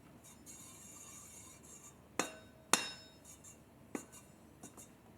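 A few sharp, light taps on a clay pot set on a pottery wheel, heard close against a faint background, spaced irregularly with small gaps between them.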